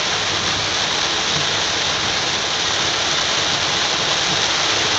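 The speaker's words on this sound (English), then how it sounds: "So I guess it's the beginning of the fall rain." Heavy autumn rain from a fall storm makes a dense, constant hiss that is loud and unbroken throughout, with no voices over it.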